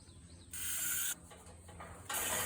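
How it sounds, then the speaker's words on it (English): Vetericyn sprayed from a trigger bottle onto a donkey's hoof: two short, sharp hissing bursts, each about half a second, separated by quiet mechanical clicking of the trigger, close and clear. "I'm going to spray the whole bottom of the hoof"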